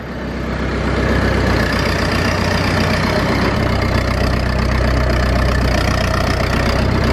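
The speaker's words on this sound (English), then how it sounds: "The exhaust is a little bit louder than the old one." A Ford 434 tractor idles on a farm with a slightly louder exhaust, its steady low rumble loud and close, holding an even tone throughout with no voices.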